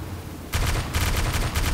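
Rapid automatic gunfire in the military shooter game ARMA 2, starting abruptly after a quiet half second and continuing as loud, closely spaced bursts of shots.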